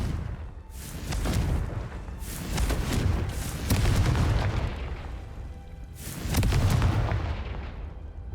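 The Confringo fire spell in Hogwarts Legacy, a video game, sets off a series of loud booming blasts, each with a rumbling tail that rolls into the next, sounding dense and continuous.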